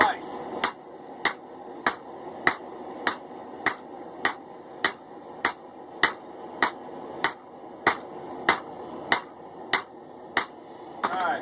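A hammer pounds the hot end of an inch-and-a-half drill line cable on an anvil. About twenty evenly spaced, sharp, ringing blows land in a steady rhythm, close and clear.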